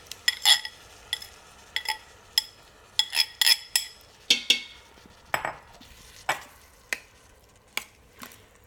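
A spoon stirs two cans of coconut milk in an Instant Pot for carrot halwa, giving about a dozen sharp, evenly spaced clinks and scrapes against the metal inner pot, close and fairly quiet with no talking.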